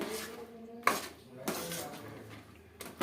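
Roasted peanuts being stirred into thick jaggery syrup in a pan, with a few sharp metallic clanks of the spoon against the pan between quieter scraping, heard up close.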